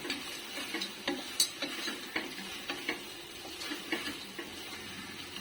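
A spoon stirs whole cardamom, cloves and other spices in a pressure cooker while making chicken biryani, giving soft, quiet, irregular clinks and taps over a faint sizzle.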